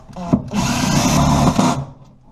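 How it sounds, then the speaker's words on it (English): A power drill drives self-tapping screws into metal range hood ducting in a brief, loud burst of whirring and grinding lasting about a second, with a short knock just before it. "Put a self-tapping screw on each side of your ducting."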